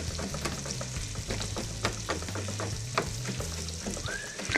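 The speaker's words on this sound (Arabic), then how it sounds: "الثوم رح أفرمه ناعم بس يدبل شوي البصل رح زيد الثوم يلي عم أفرمه هلأ" Onion and finely minced garlic fry in a pan for a spicy Tripoli-style fish dish, a steady close sizzle broken by light stirring clicks and scrapes, with no talking.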